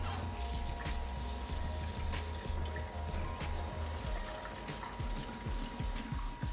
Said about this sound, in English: you want to fill this up with water